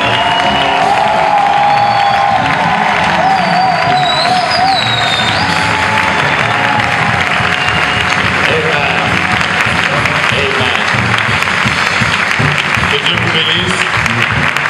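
A church congregation claps and cheers loudly, with dense continuous applause, whoops and shouting voices that hold steady for the whole stretch, close and full.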